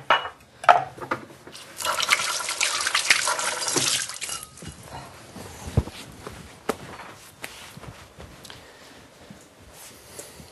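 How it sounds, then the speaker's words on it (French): Hands are washed under a running tap, a short splashing gush of water that fades, followed by soft footsteps and light clatter nearby, with no speech. "je vais aller me laver les mains"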